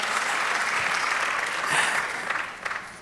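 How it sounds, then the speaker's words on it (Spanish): Church congregation applauding during a sermon, a steady wash of clapping hands for about three seconds, moderately distant, thinning out toward the end. "Un aplauso aquí a Vanessa también, que es esa servidora."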